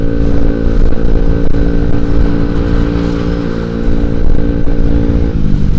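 Honda Vario 125 scooter engine running low on oil while riding, a steady loud drone with a rough, buzzing tone that holds constant throughout, close and continuous with no talk.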